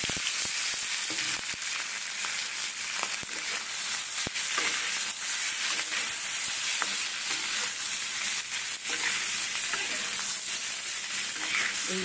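Potatoes frying in oil with turmeric and salt, a loud, dense hiss of sizzling that runs steadily from start to end, with a few sharp ticks and clicks from stirring.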